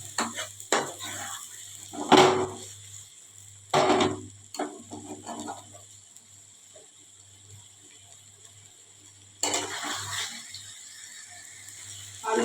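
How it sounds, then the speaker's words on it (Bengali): A spoon scrapes and clatters against a pan while potatoes and spices are stirred for masala paneer, a few sharp metallic scrapes in bursts over a low steady hum. "আলুটা নেড়ে দিতে হবে চারপাশ থেকে"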